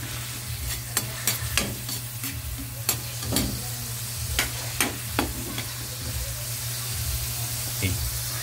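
Onion sautéing in a hot pan for pork pakbet, a constant close sizzle punctuated by sharp, irregular ladle scrapes and taps.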